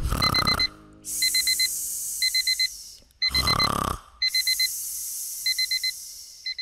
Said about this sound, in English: Oh, the alarm's going off already?